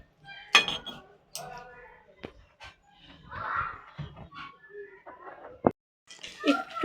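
A pan of winter vegetables gets covered with a lid, giving a few sharp metallic clinks and clatters close by, mixed with other kitchen handling noise and some dog-like panting or whimpering.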